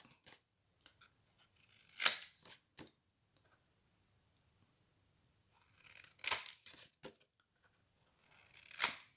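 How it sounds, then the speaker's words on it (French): Scissors snipping the corners off folded paper for a diamond-shaped box, three separate close crisp cuts spaced a few seconds apart with quiet pauses between, no talking. "on va découper les coins"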